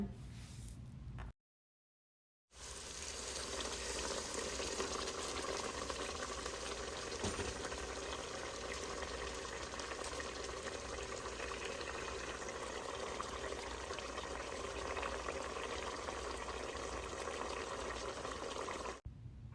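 Mushrooms simmering in a pan with a cup of hot water added, a steady broadband bubbling and hiss that runs continuously after a brief silent gap near the start.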